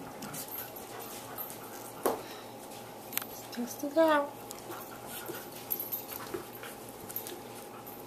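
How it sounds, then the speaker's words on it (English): Puppies whimper in a few short, high squeaks and whines, mostly faint, with one clearer whine midway, under a person talking. "I think we're gonna scare the puppies."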